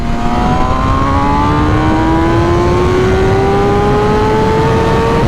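A tuned 2021 MV Agusta Rush motorcycle with an ECU flash accelerates hard, a loud, continuous engine howl climbing smoothly in pitch from start to finish with no talking.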